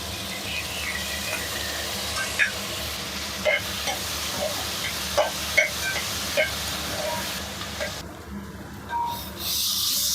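Masala sizzles and fries in a pan for a South Indian curry, with steady crackling under repeated sharp scrapes of a spoon stirring against the metal, close and moderately loud, briefly quieting near the end.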